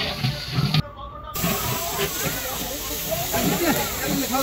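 Bay leaves, cardamom, cinnamon and onion fry in hot oil with a constant close sizzle and hiss, briefly cut out midway, while someone talks over it.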